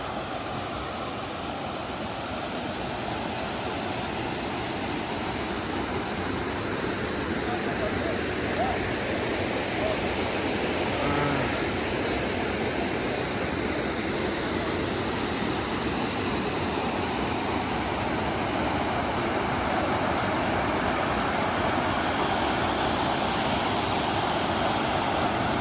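A waterfall roars close by in a natural setting, a dense, steady rush of falling water that continues unbroken and loud throughout.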